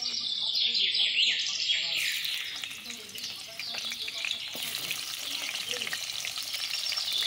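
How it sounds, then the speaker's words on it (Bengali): Oil heats and sizzles in a wok on a clay stove, a steady bright hiss that swells and settles, with birds chirping faintly in the background outdoors. "এখন আমি আবারও ওই কড়াইতে তেল দিয়ে দিলাম।"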